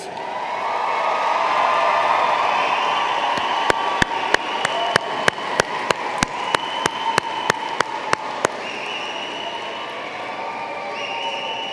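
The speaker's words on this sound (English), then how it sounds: "How about a round of applause for the graduates?" Applause at a high school graduation ceremony in a large hall: a series of sharp, evenly spaced claps rings out over a low crowd murmur, then the room settles back to quiet ambience.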